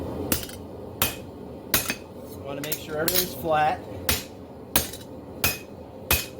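Spaced, ringing hammer strikes land on a forged steel herb chopper blade as it is planished flat, with someone talking briefly between blows amid some clinking and scraping of metal. Close and sharp.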